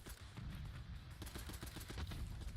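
A .22 rifle fires repeatedly in a video game, a quick run of faint, soft shots in close succession.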